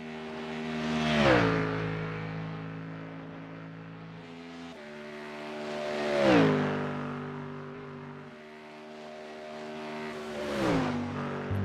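Engine of a GT3 race car in iRacing, lapping the Nürburgring, climbing through the gears and sweeping up and down in three loud, close surges with steady mechanical whine between them and no talk.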